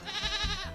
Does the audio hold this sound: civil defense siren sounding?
no